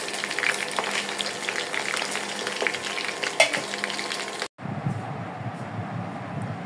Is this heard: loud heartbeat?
no